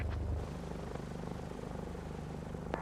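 A simulated airplane in Microsoft Flight Simulator 2024 begins its takeoff on runway 36, giving a steady, loud engine drone with a low rumble that holds without a break.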